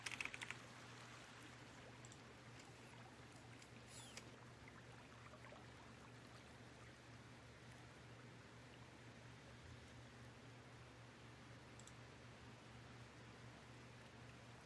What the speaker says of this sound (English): You guys get a little bit of typing